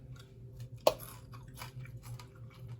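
Crunchy gammon pork crackling bits being chewed, a sharp crunch near the start followed by softer, irregular chewing and biting sounds, close and fairly quiet with no talking.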